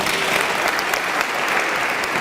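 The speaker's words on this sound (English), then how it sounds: "We must clap for Sierra Leone." Steady applause from a large crowd at a public lecture on youth and the fight against corruption, many hands clapping at once, loud and continuous throughout.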